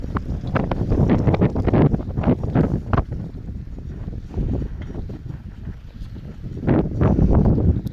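Strong wind buffets the microphone on the rainy Kedarnath road, a loud continuous roaring rumble with gusty surges, strongest at the start and end.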